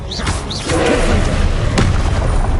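Confringo explosion spell cast in a Hogwarts video game, whooshing magic sweeps followed by a loud booming blast and thuds that ring on.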